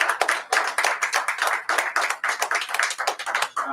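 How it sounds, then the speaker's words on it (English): A small lecture audience in Baltimore claps, a close, fairly loud burst of hands beating quickly and unevenly, with individual claps still audible throughout. "Give him a round of applause."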